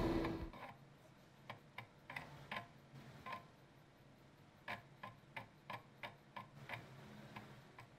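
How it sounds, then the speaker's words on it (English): A clock ticks in a Virtua Verse video game scene, a faint, steady run of evenly spaced sharp clicks with no voices. "I hope that's a clock"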